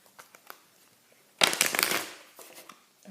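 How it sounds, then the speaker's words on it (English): A quick burst of tarot cards being shuffled, crisp and close, preceded and followed by soft handling rustles. "First we'll shuffle."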